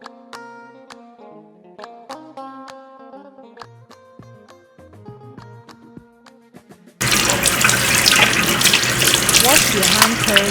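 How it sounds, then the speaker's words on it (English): Tap water gushes loudly and steadily as hands are washed beneath it, starting abruptly after a stretch of quiet piano-like music. "Wash your hand thoroughly."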